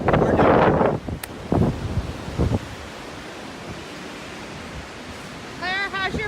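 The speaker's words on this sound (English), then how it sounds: "Crazy, I told you it was windy." Strong wind blows through a campsite in Emily Provincial Park, Ontario, a broad rushing gust that is loudest at the start and then eases to a steady background roar, with voices and short bursts of tent-flapping or rustling over it.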